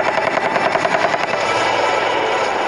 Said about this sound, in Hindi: युद्धाभ्यास में पहली बार स्वदेशी attack helicopter ALH mark four Rudra ने भी अपनी